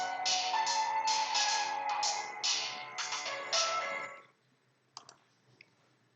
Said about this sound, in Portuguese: desculpe o barulho do telefone